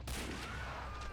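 Gunfire from an FG-42 rifle in the Men of War Assault Squad game rings out in one sharp report with a long reverberant tail in a street battle.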